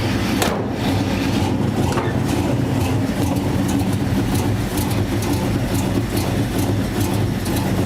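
An old 1969 Ford F100 pickup truck, pulled out after sitting abandoned for 30 years, idles with a steady, loud low rumble throughout, its continuous engine drone holding near and even with no talk over it.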